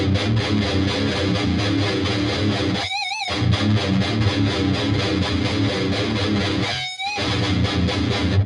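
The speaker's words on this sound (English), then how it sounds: "Let's check out the distortion channel." Electric guitar played through the distortion channel of an Odin amp plugin, thick saturated chords ringing loud and sustained, broken by two short gaps with squealing slides, no talk.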